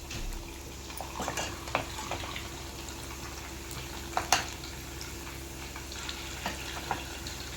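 Minapa vada, urad dal fritters, deep frying in hot oil, a steady soft bubbling sizzle close by with occasional small pops and clicks, no talk.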